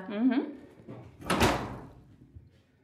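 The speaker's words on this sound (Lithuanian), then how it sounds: "Oi, duris užsitrenkė." A room door slams shut with one sharp, loud bang that decays over about a second, heard after a brief spoken phrase in an apartment with hot and cold water taps.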